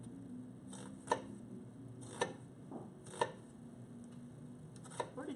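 A sharp knife slicing an onion with the grain on a cutting board, producing quiet, evenly spaced thuds about once a second over a low background, with no speech.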